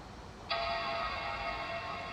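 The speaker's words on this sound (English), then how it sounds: "We've got a boot chime." A 2008 Mac Pro computer sounds its startup boot chime, a single sustained tonal chord that starts suddenly and rings steadily for nearly two seconds over faint room noise.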